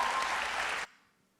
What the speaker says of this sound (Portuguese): E aí tem risos e aplausos